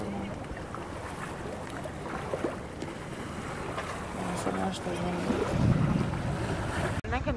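Rough Atlantic waves slosh and slap around a small boat off Tenerife, with a continuous wash of water and wind buffeting the microphone, growing a little stronger before a sudden cut.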